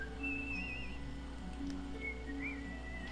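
A whistling emote in a video game gives a few short melodic whistled notes over a steady background hum of game ambience, quiet and at an easy, spaced rhythm.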